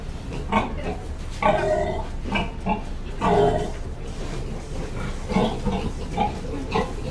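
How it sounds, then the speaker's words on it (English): Pigs grunt and oink repeatedly in a farm barn as they are pushed around, with loud close bursts of grunting spread through the stretch over a noisy background and no clear talk. "I think it's of a lady pushing around some pigs in a farm barn."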